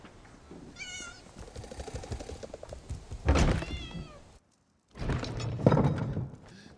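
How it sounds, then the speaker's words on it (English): Cats in The Elder Scrolls Online meow in a high wavering cry, followed by a thump and more agitated, layered yowls after a brief silence, all up close with no talking. "Damnable cats!"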